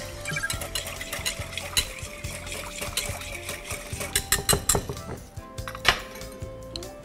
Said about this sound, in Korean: 설탕을 이제 90g, 물 200cc에 식초 200cc 잘 저어주세요